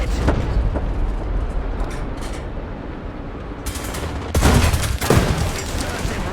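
Gunfire strikes a British Tiger tank in War Thunder, with clattering impacts and bursts over a loud rumbling engine, growing denser and heavier toward the end.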